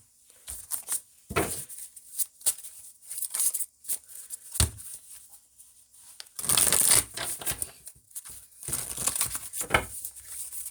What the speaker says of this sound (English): Didn't shuffle that very well